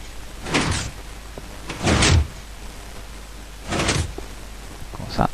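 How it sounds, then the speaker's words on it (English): An automatic sliding door in the video game Minecraft opens and closes, giving several whooshing, swishing sweeps spaced a second or two apart over a steady background hiss. "Well, Mark's door working when it feels like it again."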